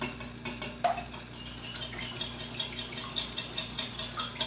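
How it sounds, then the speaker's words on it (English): Five eggs are whisked for a quiche, a fork or whisk clicking rapidly and rhythmically against a bowl, close and steady without talk. "For this quiche, we need 5 eggs. And we're gonna whisk those up"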